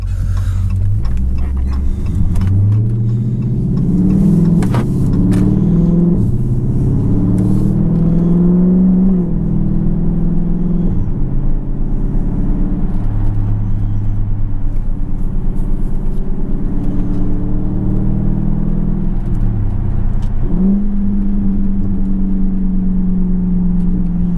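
Dodge Charger Scat Pack with muffler and resonator delete, driven on a cold day: a loud, deep exhaust that rises through repeated acceleration pulls between lower cruising rumbles.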